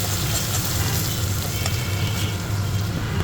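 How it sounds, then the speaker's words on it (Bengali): Chopped onion sizzles and fries steadily in hot hilsa fish oil, a close, continuous crackle with no talking. "এবার আমি দিয়ে দেবো পেঁয়াজ কুচি এটার মধ্যে।"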